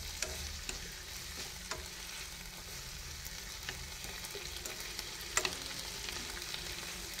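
Carp and pickled mustard greens stir-fry in a pan with a steady, low sizzle and a few faint utensil scrapes and taps, heard alone without voices.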